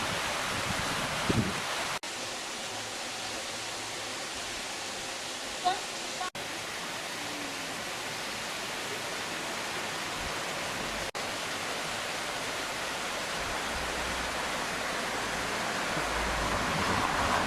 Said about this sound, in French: Une très jolie vue sur le ruisseau de Liville.